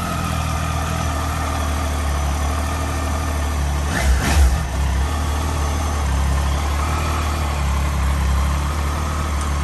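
A 2019 Triumph Tiger 800 XCX motorcycle engine starting and then idling: a brief surge around the start gives way to a steady, loud, low idle rumble that continues alone.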